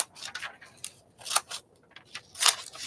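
Scissors fussy cutting a hat out of a magazine image, a steady run of close, crisp snips and paper rustles in quick irregular bursts, without any voice.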